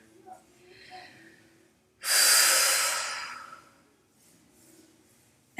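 A beginner stretching session carries a single long, forceful exhale through the middle, with softer, quieter breaths before and after.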